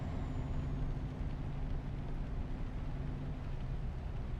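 Truck engine with an aftermarket sound pack in Euro Truck Simulator 2, a low steady diesel rumble with a faint hiss, droning evenly throughout without talk.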